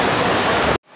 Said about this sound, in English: Like, yeah, it's kind of raining.